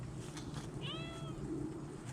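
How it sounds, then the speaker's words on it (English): A single short cat meow rising and falling in pitch, heard over a steady humming background from a Goodman heat pump running at evening startup. "Meow, meow, meow."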